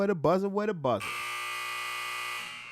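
A long, steady electronic buzzer tone sounds for about two seconds right after a short burst of speech, loud and unwavering before fading out.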